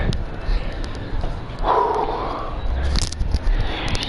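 A pet working dog barks and yips indoors, several sharp bursts with some whimpering between, close and loud, with a bit of background noise.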